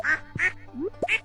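Several short, bright duck quacks from the Stardew Valley farming game, sounding in quick succession close up with brief gaps between them.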